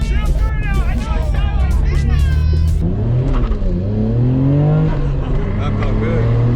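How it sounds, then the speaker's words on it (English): A car doing a burnout in a cinema parking lot after a car show, its engine revving and tires squealing loudly nearby while people shout and talk over it. "Doing burnouts in the parking lot, huh?"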